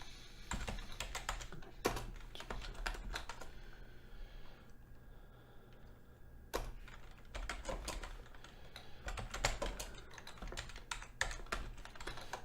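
Lines of code typed on a computer keyboard for a Unity 5 project: bursts of quick, close keystrokes, a quieter pause midway, then steady typing resuming with a few sharper key hits.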